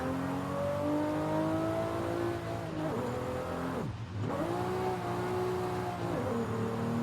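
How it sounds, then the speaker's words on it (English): Engine notes of JDM sports cars drifting in a racing video game, a steady revving drone with rising and falling pitch sweeps, a sharp dip near the middle, continuous and fairly loud with no talk. "this is about how well I can drift these cars, not how well these cars drift"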